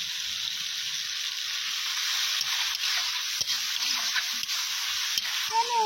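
Turmeric and ginger-garlic paste fry in hot oil in a village kitchen, giving a steady, close hissing sizzle with a few soft scrapes and taps of stirring, and no voices.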